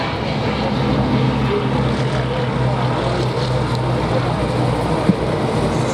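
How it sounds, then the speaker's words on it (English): A Bristol Blenheim aircraft takes off at an air show, its piston engines and propellers giving a loud, steady, broad roar that fills the whole stretch without pause, with faint voices underneath. "while we have the Blenheim takeoff"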